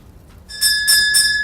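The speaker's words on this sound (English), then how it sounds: "Last orders, please. That bell's for me" A bell rung for last orders sounds three bright, ringing strikes at an even pace, close and loud, with a sustained metallic tone carrying between strokes and no talking.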